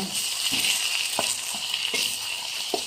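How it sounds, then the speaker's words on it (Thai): Curry paste with shallots stir-frying in hot oil, a steady bright sizzle with a few soft clicks of a spatula against the pan, close and alone. "นี่ครับพริกแกงลงไปผัดครับ"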